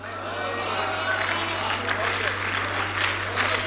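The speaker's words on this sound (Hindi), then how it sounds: "तालियां बहुत कमज़ोर थी आपकी," Applause from an audience at an All India mushaira poetry gathering in Hyderabad, a steady patter of clapping over a constant low electrical hum.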